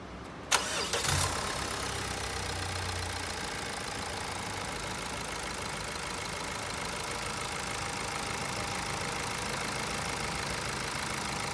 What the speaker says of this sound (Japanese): あのバスとかあのエンジンの音があるでしょ